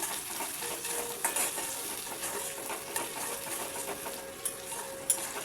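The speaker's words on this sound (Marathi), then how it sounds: "कांदा छान लाल होऊ द्यायचा आहे." Onions salted and frying in a pan give a soft, steady sizzle, with a few light stirring clicks and scrapes, close but fairly quiet, with no talking.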